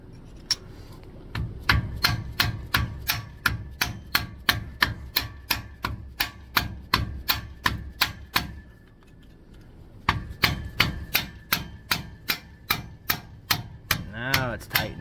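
A hammer strikes the axle bearing nut on a Winnebago RV's rear axle in steady, evenly spaced ringing metallic blows. After a brief pause, the swings resume harder, and the tone shifts as the nut tightens.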